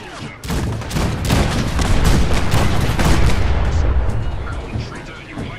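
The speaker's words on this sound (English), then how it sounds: "The cannons are ready. Fire at will." Cannons in a video game fire a rapid, uneven barrage of warning shots, booming blasts piling on one another into a dense, loud rumble that fades at the end.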